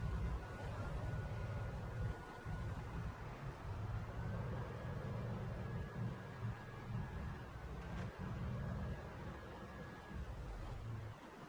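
A van drives in the video game Project Zomboid, a steady low engine drone with road rumble and a faint whistling tone running throughout.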